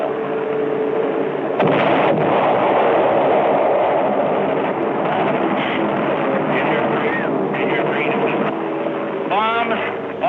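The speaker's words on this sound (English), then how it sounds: "Bombs." Bombs explode during a wartime air attack, a sustained roar of blasts and rumbling with sharp bursts, while a narrator talks over the din and aircraft-like whistles sweep through near the end.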